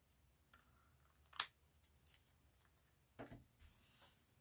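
Scissors trimming small extra pieces off a paper craft project: a handful of crisp, close snips spaced irregularly, one much louder than the rest, then a soft paper rustle, with no voices.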